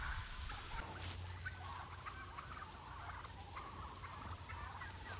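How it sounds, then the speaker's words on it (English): Excited turkeys, stirred up by goats, gobble and chatter continuously in a noisy flock, their calls overlapping against steady background noise. "The goats got the turkeys all excited"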